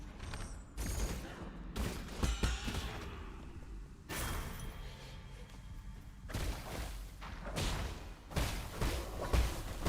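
Shooting in the video game Nine Sols, bursts of rapid thudding gunfire and impact crashes recurring in clusters over busy game noise, loud and close.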